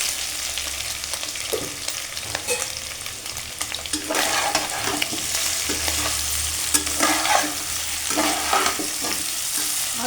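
Half-fried potatoes and boiled soybeans sizzling together in a pan, a continuous close frying hiss that grows louder midway, with repeated scraping stirs of a spatula and no talking.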